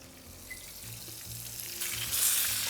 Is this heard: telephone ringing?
no